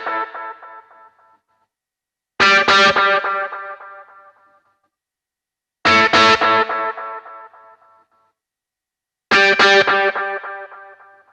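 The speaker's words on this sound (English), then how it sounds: "If I turn the delay on," An electric guitar plays three hard, distorted chord stabs through an Anasounds Utopia delay pedal. Each hit rings out and decays over about three seconds, with repeating echoes trailing behind it, and short silent gaps separate the hits.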